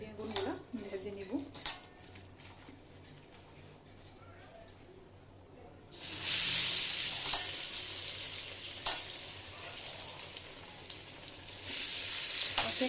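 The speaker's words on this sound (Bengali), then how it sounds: "এদিকে কড়াইয়ের তেলটাও প্রায় গরম হয়ে গেছে, এখন বেগুনগুলো ভেজে নিব।" Eggplant slices coated in turmeric, chili, salt and a little sugar going into hot oil in a kadai, a quiet stretch with clinks of utensils, then a loud sudden sizzle that keeps crackling up close with more clinking.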